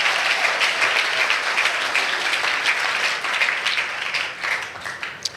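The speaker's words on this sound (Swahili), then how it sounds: "Pigia Bwana Yesu makofi." A church congregation applauds together in praise, steady dense clapping sustained throughout, fairly close and loud with no talk over it.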